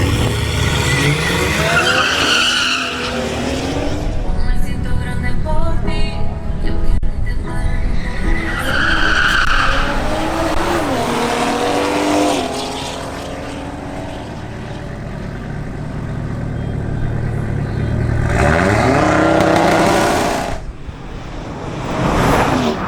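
A BMW M340i xDrive at a drag race launches hard, its engine roaring loud and close with rising gear-change sweeps and tire squeal, fading and then surging again as another pass builds near the end.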